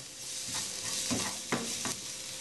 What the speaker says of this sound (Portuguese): nós vamos dourar bem primeiro o alho e na sequência a cebola